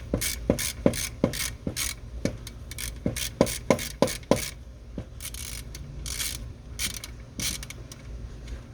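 A ratchet with a 10mm socket loosens a bolt during an alternator replacement on a Crown Victoria, Grand Marquis or Lincoln Town Car, giving a close series of sharp, irregular clicks that bunch up early and then thin out.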